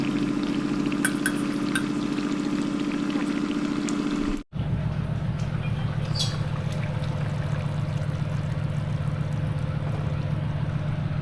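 Water boiling in a pot while fish curry is cooked in a home kitchen, a steady close bubbling hiss that drops out briefly midway and then carries on unchanged, with no voices.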